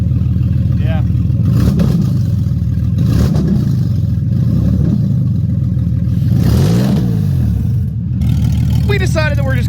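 An engine in a cheap, worn Porsche under repair idles with a steady low rumble that rises in one brief rev, while people talk close by over it.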